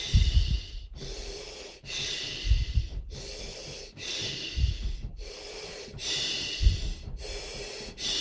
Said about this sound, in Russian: Дыхание через слог и дыхание огня,